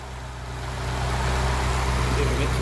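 A Datsun 510 engine running on all four cylinders, idling in second gear on the move. A steady low rumble rises slightly and stays continuous, close and fairly loud, with some voices faint underneath.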